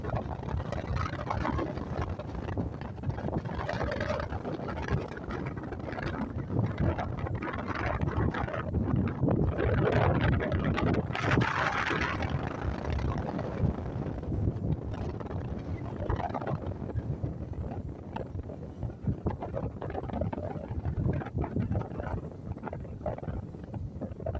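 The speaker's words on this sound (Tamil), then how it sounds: "காற்றாடிகள் சுழண்டு கொண்டிருக்கின்றன பாருங்கள் அதனுடைய சத்தம் அவ்வாறு வருகிறது" Wind turbines turn in strong sea wind near a coastal village, giving a continuous low roar that swells and fades, heavily buffeted by wind on the microphone, with no speech.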